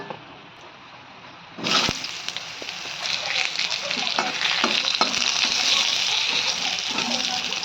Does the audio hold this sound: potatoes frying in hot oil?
yes